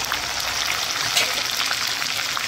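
Ginger-garlic, chili, cumin and onion pastes sauté in a pan for a prawn malai curry, making a dense, even, close sizzle with no pauses and no voices.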